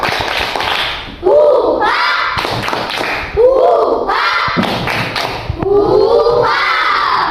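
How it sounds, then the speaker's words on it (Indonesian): Schoolchildren in a classroom do a rhythmic spirit clap, loud claps and thumps mixed with a chorus of young voices chanting and shouting in bursts over several seconds. "Tepuk semangat dulu."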